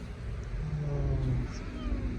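A stray cat in Istanbul gives a short, drawn-out meow close by, over a low rumble of street traffic.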